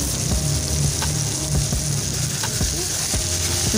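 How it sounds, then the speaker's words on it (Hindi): Spice masala with red chili powder and dried coriander sizzling and frying in a pan, a steady loud hiss broken by scraping stirs, with no voices. "मसाले को बीस सेकेंड तक भून लेंगे"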